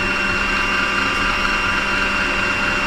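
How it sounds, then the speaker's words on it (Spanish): A sewing machine winding thread onto a bobbin gives a steady, high-pitched motor whir, loud and unbroken from start to finish, with no talk. "Estoy rellenando una bobina, la bobina que va en la parte inferior de su máquina de coser."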